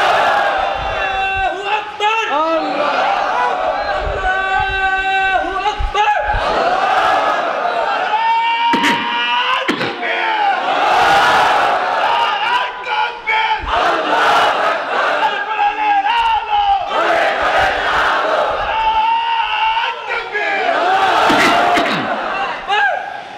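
A large crowd at an Islamic sermon at a madrasa in Chuadanga roars the takbir in loud, repeated surges, with overlapping shouting voices rising and falling across the whole stretch.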